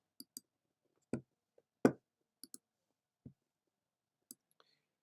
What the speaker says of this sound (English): So then we click Open the Link.